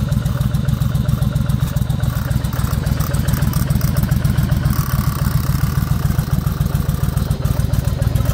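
A Yamaha Virago XV1100 motorcycle engine idles with a loud, steady, fast-pulsing V-twin throb and mechanical clatter, holding an even rhythm throughout at close range.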